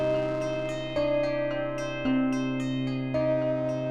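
Ambient synth sound on an Elektron Digitone 2, sustained layered tones with plucked bell-like notes and a chord change about every second, steady and clear with no voice over it.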